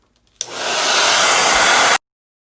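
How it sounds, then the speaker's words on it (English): A blow dryer runs loud and steady for about a second and a half, drying the glue under a lace front wig, switching on abruptly and cutting off cleanly with no voices. "rub it in, and then take your blow dryer to it."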